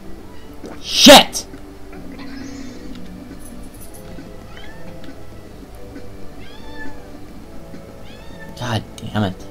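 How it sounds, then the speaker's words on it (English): A house cat meows repeatedly, with rising and falling cries spread across several seconds, close and fairly loud. A sharp sneeze-like burst comes near the start and a low background hum runs throughout. "My fucking cat needs to shut the fuck up."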